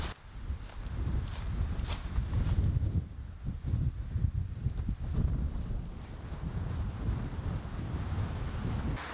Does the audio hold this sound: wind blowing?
yes